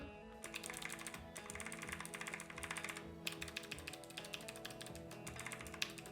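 Rapid, continuous clacking of a Logitech mechanical keyboard with GL switches, crisp and close, with a few louder strokes standing out from the steady typing rhythm.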